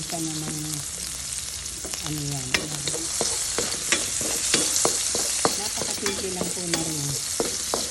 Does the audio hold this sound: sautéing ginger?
yes